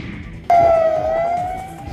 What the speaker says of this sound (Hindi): पूरे इलाके में पुलिस सायरन की गूंज सुनाई देने लगी।